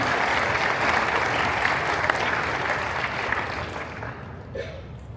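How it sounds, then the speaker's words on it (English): A Disneyland Paris event crowd breaks into loud, sustained applause, thick and continuous for several seconds before thinning and tapering off near the end. "Sous un tonnerre d'applaudissements, bien évidemment."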